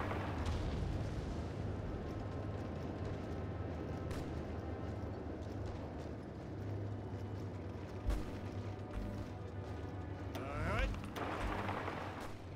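Tank battle in a Hearts of Iron historical mod, with scattered dull explosions and gunfire thuds over a constant low rumble, a couple of louder bursts near the end, and a voice talking now and then.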